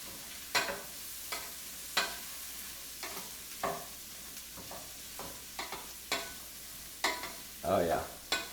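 Vegetables sauteing in a hot pan, a steady low sizzle broken by repeated stirring scrapes and clatters at irregular intervals, heard close up with no talking.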